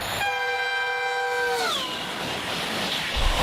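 A European high-speed train rushes past with its horn blaring. The loud, steady horn tone drops in pitch as the train passes, over a constant roar of wheels and wind.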